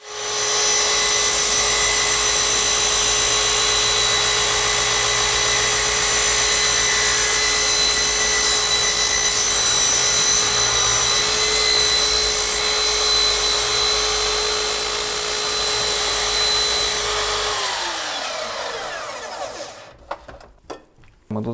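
A disc-bladed power saw whines loudly and steadily as it cuts through wood, then spins down and falls silent near the end.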